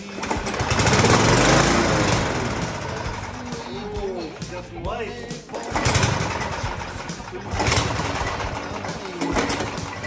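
Primed Craftsman petrol lawn mower pulled over and running: a loud, buzzy small engine with rising and falling revs at close range, and someone talking over it.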